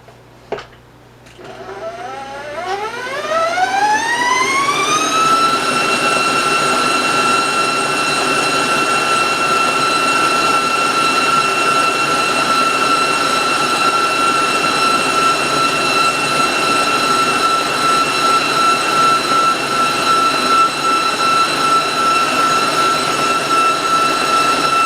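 An electric mixer motor whirs up from low to a steady high-pitched whine, running loud and continuous for a long stretch without talk.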